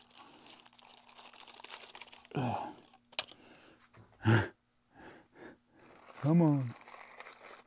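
Plastic packaging crinkles and crunches while a fragile Bachmann HO scale DeWitt Clinton 1831 replica locomotive is worked out of its plastic case, with scattered rustling bursts close by and a person talking throughout.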